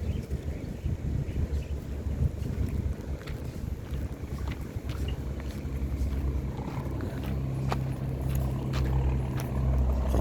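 A boat out on open water in wind, with a steady low hum of its motor under gusting wind buffeting the microphone and a few faint knocks and clicks, all at a fairly quiet level.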